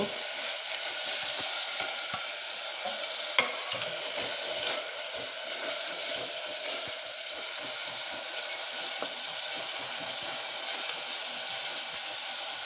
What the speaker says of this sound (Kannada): ಬಟಾಣಿ ಹಾಕಿದ ನಂತರ ಬೀನ್ಸ್ ಕ್ಯಾರೆಟನ್ನು ಫ್ರೈಗೆ ಹಾಕ್ತಾ ಇದ್ದೀನಿ